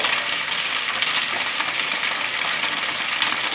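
Thinly cut vegetables, carrot among them, are tipped into a hot pan for a stir-fry and hiss in a loud, steady, bright sizzle with faint crackles and no voices over it.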